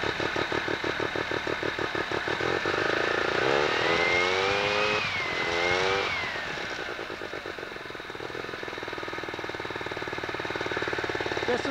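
A Sachs Wankel 303 rotary engine fitted with a 1000cc Mikuni carburetor runs loud and close with a rapid buzzing pulse, revving up and easing back before settling into a steady idle.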